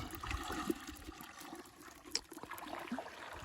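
Someone wading through water at midday while catching shrimp, a steady close splashing and sloshing with gurgles and occasional sharper splashes, continuous throughout.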